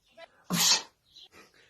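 A single sharp, close sneeze bursts out, followed by a few soft breathy sounds.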